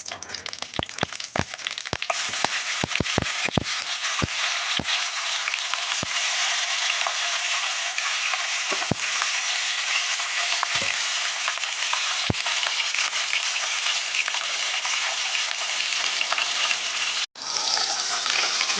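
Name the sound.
catla fish frying in mustard oil in a wok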